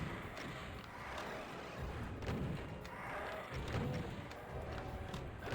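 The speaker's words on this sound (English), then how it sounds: "I just feel like let's get these rockets detonated maybe." Rocket explosions in the video game Doom, a UV Blind run through the map Break From Urban Walls, sound as repeated dull booms and thuds. They come in bursts over a constant roar of game noise.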